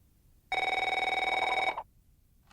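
A telephone rings once, a single loud, steady electronic trill lasting just over a second, with a brief start of the next ring at the very end.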